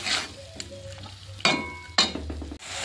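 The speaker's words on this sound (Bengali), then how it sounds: "আলু গেঁড়ি মশলা এবার ভালো করে কিন্তু কষাতে হবে। 5 মিনিট ধরে কষিয়ে নেব আমি।" Spiced snail and potato masala being stirred and fried in a pan, with scraping spoon strokes over a low sizzle, a few louder stirring bursts near the end, close and unaccompanied by talk.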